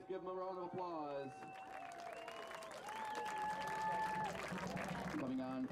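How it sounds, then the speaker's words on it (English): Crowd applause at an NPSL soccer match between Duluth FC and Sioux Falls Thunder as a substituted player walks off the field, steady clapping rising under an announcer's voice and swelling through the middle. "Give him a round of applause."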